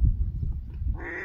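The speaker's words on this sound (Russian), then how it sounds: "При приближении диких уток подсадные будут громко крякать" Decoy ducks quacking loudly at a wild duck hunt, a burst of close, harsh low quacks followed by a higher honking call at the end, with no voices.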